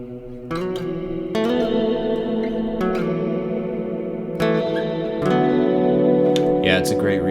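An electric guitar through a reverb pedal plays sustained, shimmering chords with long washy tails, bright and close, with new strums layering over the decaying wash.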